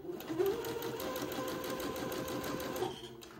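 A sewing machine stitches the shoulder seams of a little white dress, a steady close mechanical whir with a fast needle rhythm running for about three seconds before stopping.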